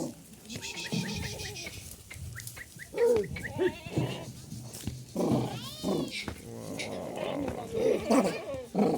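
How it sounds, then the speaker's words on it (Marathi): Dairy goats bleat repeatedly, some cries close and loud, with people talking nearby and shuffling movement in between. "या दुधाच्या शेळ्या आहे संपूर्ण शेळ्या दुधाच्या"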